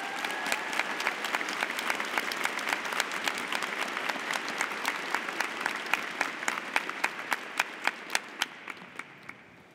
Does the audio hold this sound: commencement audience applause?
yes